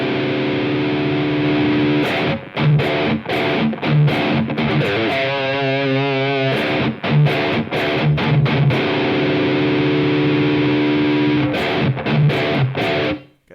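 Heavily distorted electric guitar through a modified Marshall amp with the fat switch engaged: thick sustained chords and riffs with choppy stops and a wavering, swirling passage, loud and alone.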